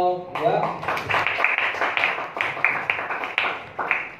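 Classroom applause for a student group after a presentation on a motor workshop business, a steady burst of many hands clapping close by, with voices mixed in throughout.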